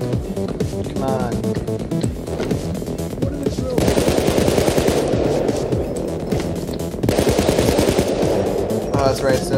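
Rapid bursts of automatic gunfire from a shooter game heist, fired in dense volleys that swell louder midway and again near the end, with players talking over the shooting.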